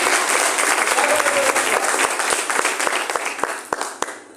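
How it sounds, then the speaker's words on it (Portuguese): A church congregation at an Igreja Cristã Contemporânea service breaks into sustained, dense applause, a steady wash of many hands clapping close by that thins toward the end into a few sharper, separate claps. "Dá uma salva de palmas para Jesus."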